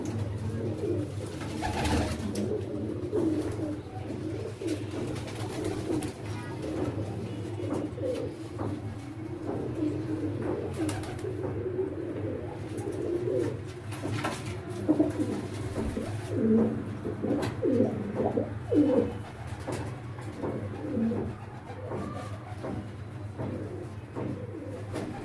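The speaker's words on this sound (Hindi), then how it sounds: "एक और कबूतर का शौक कराता हूँ आपको।" Pigeons coo repeatedly in soft, low, throaty phrases, several birds overlapping at moderate distance over a steady background hum, with occasional rustles and a few faint chirps.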